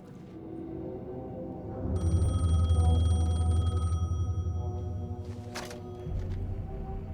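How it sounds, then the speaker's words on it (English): A payphone rings in the video game Alan Wake II: a steady electronic ring repeats for several seconds over a low, moody ambient drone, then breaks off, followed by brief clatter and quiet room tone. "The payphone was ringing."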